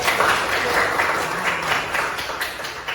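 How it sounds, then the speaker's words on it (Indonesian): A class session audience claps together in a brief, lively burst of dense applause that holds steady for a few seconds, close and fairly loud. "Oke, bagus, tepuk tangan dulu."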